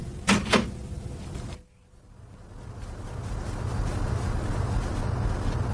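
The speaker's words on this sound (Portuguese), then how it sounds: "feche a porta quando sair" An indoor door is pulled shut with two quick close thuds, followed by a brief near-silent dip and then a rising, steady room hum.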